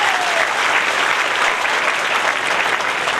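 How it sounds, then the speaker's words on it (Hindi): An audience at a Shrimad Bhagwat katha held at a village cow-shelter gathering in Rampura claps to welcome a district president, a loud, dense, continuous round of applause from a large crowd. "ताली बजाकर सभी स्वागत करें।"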